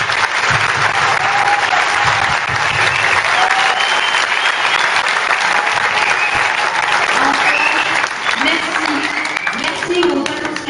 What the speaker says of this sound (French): je voudrais qu'on les applaudisse très fort pour leur travail